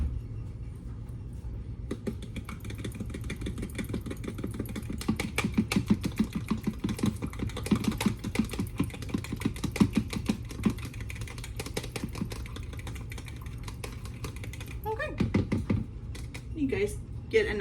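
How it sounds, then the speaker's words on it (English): A fork whisks egg wash in a small bowl, giving a fast run of light, regular clicking taps that continues for several seconds, with a low steady hum underneath. "you're just gonna whisk this together"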